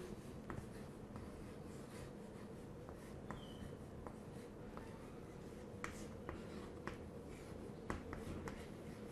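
Soft scratching strokes of writing on a board during a physics lecture, steady and faint against constant room hiss with no talking.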